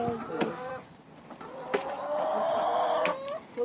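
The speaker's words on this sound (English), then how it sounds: "I want to touch a chicken." Chickens cluck and call nearby on a farm, with a drawn-out fowl call toward the end, and people talk over them.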